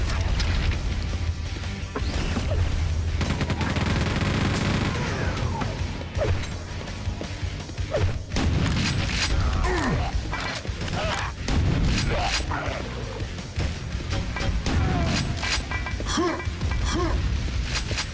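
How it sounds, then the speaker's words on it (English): Super shotgun blasts in the Quake 2 Remaster, heavy booming shots and crashing impacts recurring through a dense, continuous stretch of loud game combat noise. "Yeah, that is a super shotgun."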